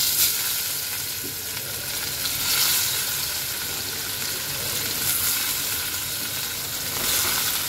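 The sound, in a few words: chital fish frying in hot oil in a wok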